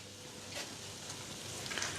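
Broccoli sizzles and fries in a pan while being stirred, a steady soft crackling hiss with faint scraping, fairly quiet and close, with no voices.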